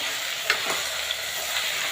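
Spices, including coriander-cumin powder and salt, sizzle steadily in a hot pan while a spoon stirs and scrapes through them, with no talking.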